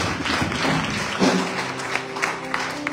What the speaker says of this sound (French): Acclame juste un peu le Seigneur et Dieu béni.